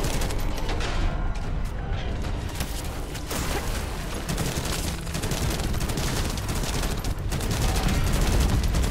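Sustained automatic gunfire from the video game The First Descendant, dense volleys of shots and booms rattling continuously at high loudness with brief swells, no talk.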